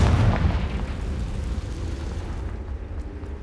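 A Confringo blasting spell from Hogwarts Legacy erupts in a loud, close explosion, a deep rumbling boom that rolls on and slowly fades over a few seconds.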